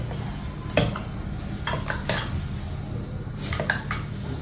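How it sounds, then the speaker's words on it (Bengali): Dishes, pots and cutlery being washed after making pudding: repeated clinks and clatters of metal and crockery over a steady background hiss, with sharper knocks scattered throughout. "পুডিং বানানোর পর আমার যেসব ময়লা হয়ে গেছে সেসব আমি এখন ওয়াশ করব"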